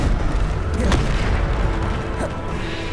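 Bombarda explosion spell in the Hogwarts Legacy video game, a dense, loud rumbling boom with rolling low-end blasts and a sharper crack near the one-second mark.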